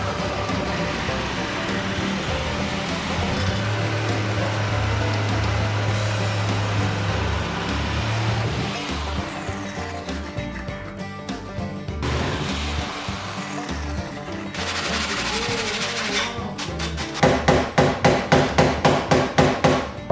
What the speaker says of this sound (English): let's break out the Sawzall once again and we'll get to cutting